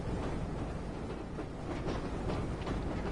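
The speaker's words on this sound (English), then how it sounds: "The train's going too fast, guys." A train in the PS4 video game Train Sim World rumbles past with a heavy low roar and faint rhythmic clacking, holding steady throughout, with no voices.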